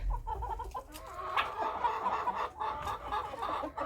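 A young rooster and hens in a flock of two-week-old chickens raised without light give continual clucking close by, with several louder rising calls standing out above the steady chatter.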